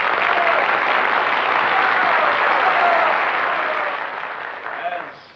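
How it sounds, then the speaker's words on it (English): Theatre audience applauding for a stage performer, a dense, steady wash of clapping that holds strong for several seconds, then thins and fades toward the end. "hearing your applause for the fine talents"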